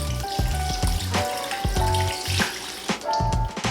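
Beef broth, two cups, poured into a crock pot of beef ribs for a quick and easy beef stew, with a steady splashing, sizzling pour and intermittent clinks, close and moderately loud.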